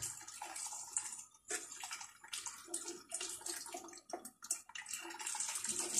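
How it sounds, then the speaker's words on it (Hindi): Water is poured into a pot of dal with prepared spices, a splashing, gurgling pour in uneven bursts with brief pauses, close and moderately loud. "वही चीज डालेंगे और पानी डाल देंगे।"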